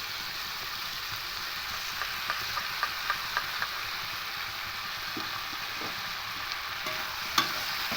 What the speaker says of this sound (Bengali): কাঁচা লঙ্কা আর পোস্ত পেস্টটা দিয়ে দেবো